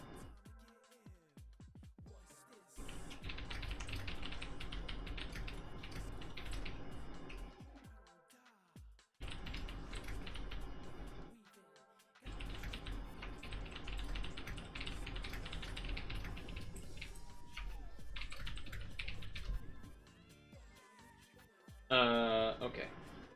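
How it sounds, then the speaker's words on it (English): Computer keyboard keys clatter in quick, uneven bursts at close range, running under and between continuous talk and background sound. "Sorry, I was typing."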